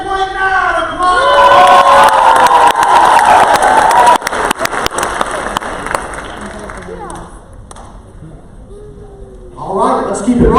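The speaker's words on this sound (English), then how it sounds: "Let's give a big round of applause for Miss Kaylee Gerald." A poetry slam crowd bursts into loud cheering and applause with whoops and shouts, clapping sharp at first, then fading away before a voice rises near the end.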